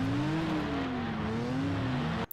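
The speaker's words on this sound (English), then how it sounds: "Okay, the engines are annoying." Revving race car engines from the Rage 2 video game hum loudly and steadily with gently shifting pitch, then cut off abruptly near the end followed by a brief click.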